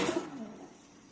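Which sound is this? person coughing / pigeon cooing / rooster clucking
pigeon cooing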